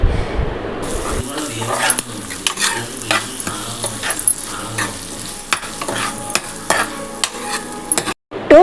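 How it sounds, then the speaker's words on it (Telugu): Masala paste and ginger-garlic paste frying in a pan while being stirred, a continuous sizzle broken by repeated scraping strokes of a spoon against the pan, fairly loud and close. "ఆ మసాలా పేస్ట్ను వేసి బాగా కలుపుకోవాలి"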